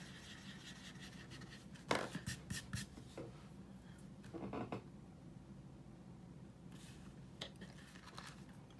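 Pencil eraser rubbing across a paper planner page in several short scratchy bursts, fairly close, separated by quiet pauses in a still room.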